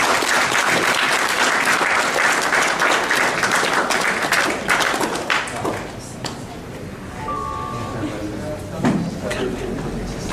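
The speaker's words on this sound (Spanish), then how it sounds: "Un aplauso, por favor." Sustained audience applause at a presentation ceremony, dense loud clapping that gradually thins and fades, with a few voices speaking near the end.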